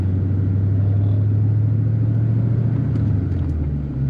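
A 1988 Ford LTD Crown Victoria with a 5-speed manual drives along, its engine a steady low rumble that holds loud and even from inside the car, easing slightly near the end, with no talk.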